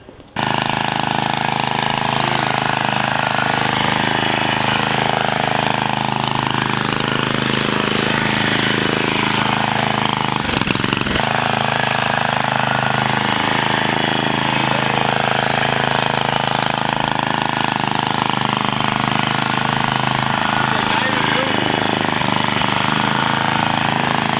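A mini differential trike's small engine runs steadily and loudly throughout as it is driven, with a constant buzzing drone and slight shifts in pitch as speed changes, with no break across the whole stretch.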